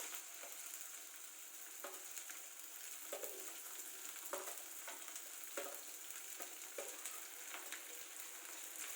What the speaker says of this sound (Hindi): इसे हम अच्छे से मिक्स कर लेंगे।